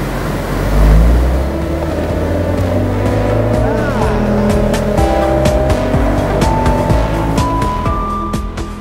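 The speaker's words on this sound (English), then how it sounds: "when you come to a stop, the engine is kind of a nice little burble thing" A 2017 Fiat 124 Spider turbo engine idles with a low, rumbling burble after coming to a stop, steady and close, with a voice talking over it.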